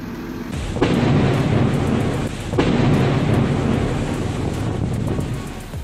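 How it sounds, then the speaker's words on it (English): Thunderstorm with lightning in Dam Duong, a loud, sustained rumble of thunder with rain and wind noise, cracking sharply twice and rolling on without voices. "Amazing lightning display in Dam Duong on August 3rd, 2023."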